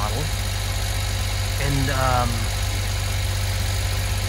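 A four-wheel drive mini truck engine idles steadily with a low, even rumble, briefly under a single spoken word.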